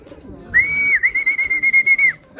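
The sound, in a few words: racing pigeon arriving at loft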